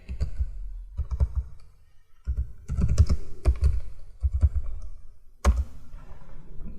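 Computer keyboard typed in short bursts of crisp clicks with brief pauses between them, the sound of a command being entered at close range.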